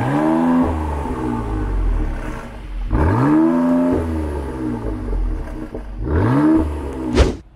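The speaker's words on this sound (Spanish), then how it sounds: "abrimos válvula de escape." A car engine in Miami revs with its exhaust valve open, making three loud, close throaty surges that climb in pitch and then fall back toward idle between them, with no voices.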